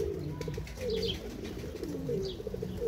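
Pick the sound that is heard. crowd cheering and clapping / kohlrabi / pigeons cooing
pigeons cooing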